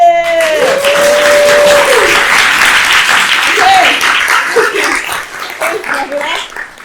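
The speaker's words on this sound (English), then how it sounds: "can we give a big round of applause to the next writer in residence, Nabila Syed?" An audience gives a big, sustained round of applause for the next writer in residence, with cheering and a whoop on top, loud and dense, thinning toward the end as a voice speaks over it.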